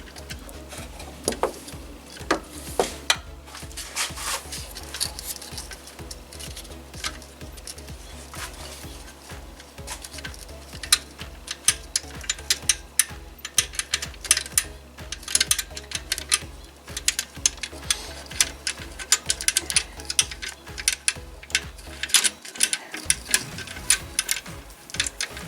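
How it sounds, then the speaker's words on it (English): A ratchet wrench turns out the 12mm timing chain tensioner bolt on a Kia 1.8/2.0 Nu engine, a continuous run of quick, close mechanical ticks with irregular louder clicks lasting the whole stretch, with no speech. "Now that 12mm bolt on the side for the tensioner will need to be removed"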